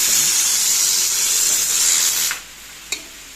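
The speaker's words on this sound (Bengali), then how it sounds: "আর এখানে দিয়েছি মটরের ডাল প্রেসারে সেদ্ধ হওয়ার জন্য।" A pressure cooker boiling pea dal gives off a loud, steady steam hiss that cuts off sharply partway through, followed by a brief faint hiss burst.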